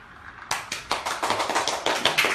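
A short burst of hand clapping, about a dozen quick, close claps in a brisk rhythm after a Xiaomi Mi drone has its propellers fitted, heard alone without talk.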